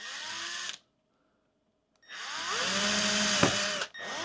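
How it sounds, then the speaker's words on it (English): A power drill boring pilot holes into an RV door while it is fitted with a quick-lock screen door handle, with two loud, sustained runs of the motor separated by a short silent pause, the second whining up and down in pitch. "go ahead and drill my pilot holes"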